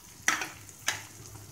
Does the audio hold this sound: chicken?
no